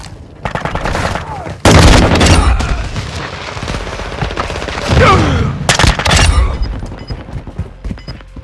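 AK-47 assault rifle fire in Call of Duty: Modern Warfare II, loud close bursts of rapid automatic shots with heavy booms, interrupted by short pauses, mixed with game sounds and voice callouts.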